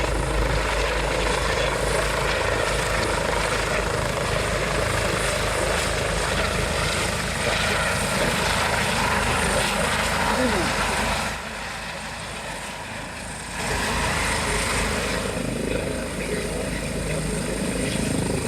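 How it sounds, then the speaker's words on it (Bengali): A helicopter circles over the Shravani Mela fair at Tarakeshwar to shower flowers on pilgrims, its loud steady rotor thrum and engine whine continuous, dipping briefly as it passes before returning. "সাত সকালে হাজির হেলিকপ্টার, আপনাদেরকে ছবি দেখাচ্ছি। আকাশ থেকেই হবে পুষ্প বৃষ্টি।"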